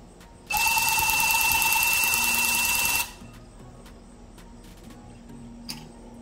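A handheld tufting gun punches yarn into a rug backing in a loud, fast mechanical buzz lasting a few seconds, then stops, leaving faint clicks and handling noises.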